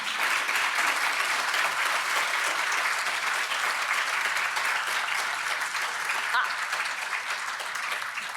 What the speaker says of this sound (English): Just give them a big round of applause